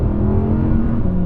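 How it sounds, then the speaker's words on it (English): A rear-wheel-drive Audi R8 engine drones loud and close under throttle in a brief, steady burst of sustained engine tone. "The way you can balance it on the throttle is really cool."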